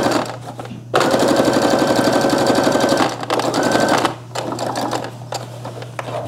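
A home sewing machine stitches a seam on a fabric bag, running fast with a loud, rapid, machine-gun-like chatter in two long bursts separated by brief pauses, close up and with no talking.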